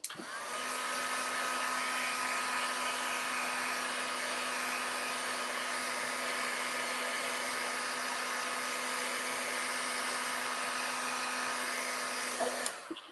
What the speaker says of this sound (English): I am going to hit this with my heat tool.